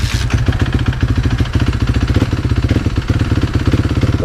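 A 2013 Kawasaki KX250F dirt bike engine idles steadily while warming up, a loud, close, rapid single-cylinder putter with a constant rhythm and no voices.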